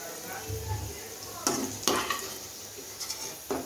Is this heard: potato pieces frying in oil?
yes